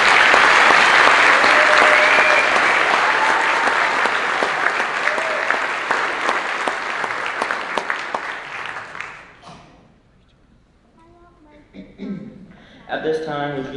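Loud, sustained applause from a concert audience after a band performance fades away after about nine seconds, and then a speaker begins talking over a quieter room.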